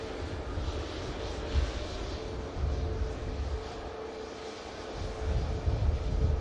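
Atlas Air Boeing 747 at Manchester Airport, a steady distant engine roar and rumble holding throughout, swelling slightly near the end.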